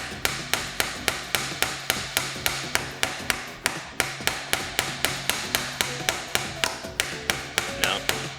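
A hammer taps a pin into a gun in a fast steady rhythm of close, sharp metallic strikes, about four per second, with short pauses and no talking.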